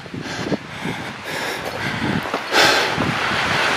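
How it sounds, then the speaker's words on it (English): Strong wind gusting near an 11,000-foot mountain summit junction, a broad steady rush that swells louder toward the end, with no voices. "It's very windy"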